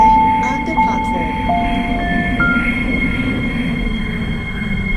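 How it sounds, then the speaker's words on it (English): A metro train pulls into a station platform, its low rumble steady throughout while several thin, high wheel squeals sound in short, overlapping bursts. "The train is arriving at Eric's Horizon Station."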